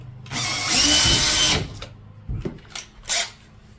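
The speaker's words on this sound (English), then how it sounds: "I'm gonna drill 1 pilot hole in the center" A power drill whirs in a loud burst of about a second, then gives a few short, choppy spurts as it bites into material while drilling a pilot hole on a Brooklyn PK13 boat for a Garmin Echomap UHD 73SV install.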